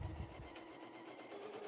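A home sewing machine stitching pieced quilt block fabric, a steady rapid mechanical whir of the needle running continuously and close up, with no talking.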